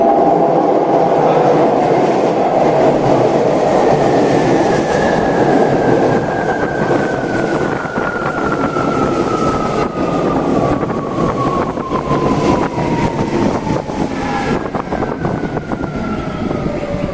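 A Tokyo Metro 17000 series eight-car train rumbles along continuously from inside the car, with steady rail noise, clattering, and a rising then falling whine from the motors.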